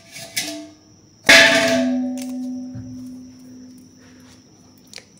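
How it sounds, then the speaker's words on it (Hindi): A soft tap, then a loud metallic crash as utensils hit the floor, ringing out and fading, followed by a few small clinks. "बर्तनों का गिरना कैसे?"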